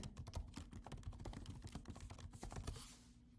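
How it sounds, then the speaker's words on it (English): A computer keyboard clicks as a search is typed, with quick, uneven bursts of close keystrokes that slow near the end, with no voice. "if I go over here and I type in wisdom teeth"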